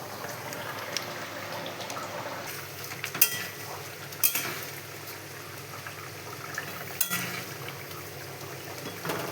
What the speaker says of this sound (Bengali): ভেজে রাখা ডিমগুলো দিয়ে আবারও একটু নাড়াচাড়া করে নেব